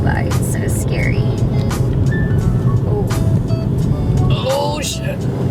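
Cars pass close by on tiny Irish streets on the outskirts of Dublin, a loud road rumble with engine noise and scattered sharp rattles and squeaks, while people talk over it.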